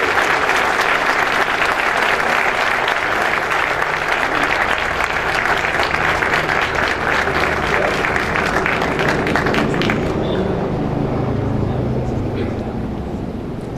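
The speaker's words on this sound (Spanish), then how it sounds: "Un aplauso muy fuerte por este tercer lugar" Loud, sustained audience applause at an environmental cooperation awards ceremony honoring a third-place winner, dense steady clapping that fades off toward the end.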